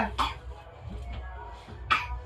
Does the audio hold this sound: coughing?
yes